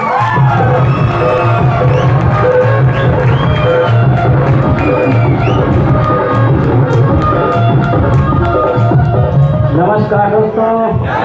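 A large crowd at an anniversary event for a youth leader cheers and whoops in a loud, dense, sustained roar that stays constant throughout, with voices mixed into the din.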